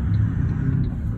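A 2023 Toyota 79 Series Landcruiser pulls away in first gear, giving a low, steady engine rumble heard from close by, with no one speaking.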